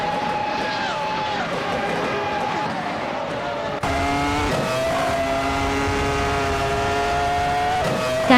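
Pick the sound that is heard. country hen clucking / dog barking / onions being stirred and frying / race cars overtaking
race cars overtaking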